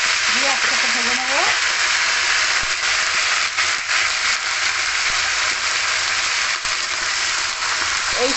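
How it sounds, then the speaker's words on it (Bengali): Papaya, pointed gourd, long beans and ridge gourd fry together in a pan for a vegetarian mixed curry, giving a steady, loud broadband sizzle throughout with brief voiced sounds near the start. "পেঁপে অল্প ভাজার পরে দিয়ে দিলাম পটল, বরবটি আর ঝিঙে, সব দিয়ে দিলাম, দিয়ে একসাথে ভেজে নেব।"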